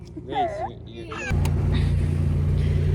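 McLaren car driving, a steady low engine drone that cuts in partway and holds loud, preceded by a voice and other sounds.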